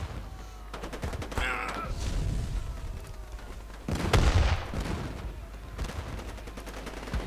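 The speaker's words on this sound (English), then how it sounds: "That's an howitzer, 105mm." A 105mm howitzer in the war game Theatre of War 3: Korea booms once with a heavy low thud amid scattered distant gunfire and battle ambience, followed by a rumbling tail.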